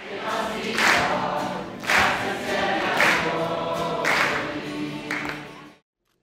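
Some eighty young people welcome Pope Francis with rhythmic hand clapping and singing, a dense crowd sound with swelling bursts roughly every second that holds steady before cutting off abruptly near the end.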